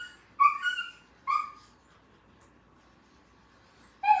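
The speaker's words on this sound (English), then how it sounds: "I'm sure you can hear my puppies whining." Puppies whining indoors: three short, high-pitched whimpers in separate bursts with quiet gaps between, fairly close and clear, and no talking.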